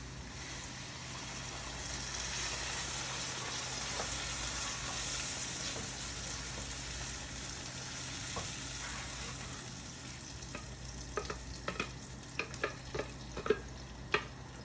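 A blended onion and garlic paste dropped into a hot pot for beef stew, giving a broad continuous sizzle that settles, followed by faint scattered clicks of stirring toward the end.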